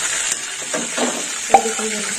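Onions frying in a pan for prawn chorchori give off a steady hiss of sizzling oil, with a sharp clink of a utensil against the pan and some faint stirring.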